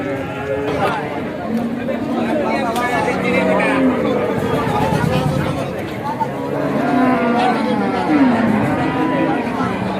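Several cows moo at close range over a constant hubbub of people talking at a rain-flooded cattle market in Sharatnagar, the lowing rising and falling in long drawn-out calls.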